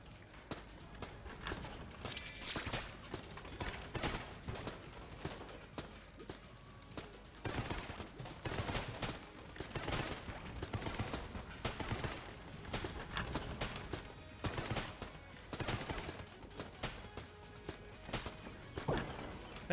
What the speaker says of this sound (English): I'm firing so many bullets in so many different directions that some of them actually end up hitting